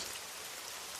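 Steady rain falls in a dense, even hiss with no talking, constant throughout the short stretch.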